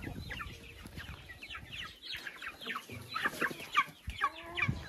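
Chickens cluck in an enclosure at a country dacha, their repeated close clucks rising and falling at a moderate level against a quiet farmyard background.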